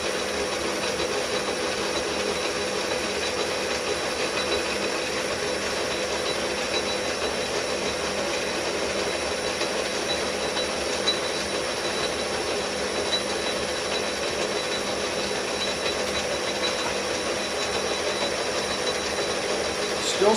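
Lathe cutting and scraping a metal workpiece, a continuous steady grinding and scraping drone with a constant machine hum, close and fairly loud, no voices.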